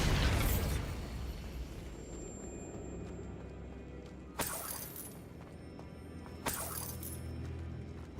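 Bombarda explosion spell in Hogwarts Legacy, a loud shattering blast at the start fading out, followed by two more sharp bursts a couple of seconds apart, each with a crackling debris tail, no talk.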